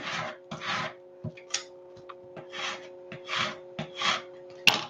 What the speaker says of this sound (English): I just need to squeegee this down a little bit better